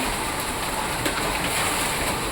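Heavy rain pours down steadily onto a house balcony that is flooding because a drain is blocked, a loud, dense, unbroken roar of water with no voices.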